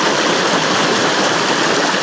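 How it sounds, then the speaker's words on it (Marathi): Water in a stream rushes steadily in a broad, loud, close wash with no break and no voices. "पाणी बघा किती आहे, पाणी खूप आहे"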